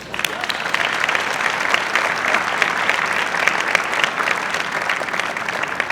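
An audience claps steadily for several seconds, a dense, even patter of many hands heard from within the crowd.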